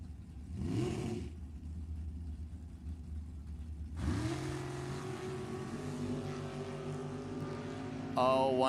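Drag racing cars launching at an NHRA Division 7 E.T. Finals event, including a 1961 Falcon Super Gasser: a brief engine roar, then a loud, sustained launch with rising revs that carries to the end.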